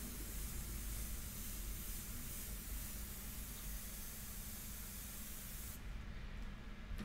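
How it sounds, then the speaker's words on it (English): A Badger Sotar Slim airbrush sprays India ink onto paper for a portrait, giving a constant, even, quiet hiss of air that runs steadily throughout and thins slightly near the end. "the Sotar Slim is a Badger. It is Badger's newest airbrush"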